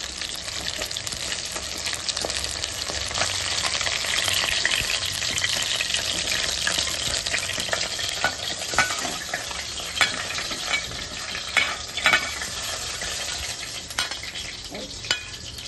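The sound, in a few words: fish frying in oil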